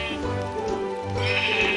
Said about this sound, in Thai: เฮ้ยแกะ มัน ว่าไงเจ้าแกะ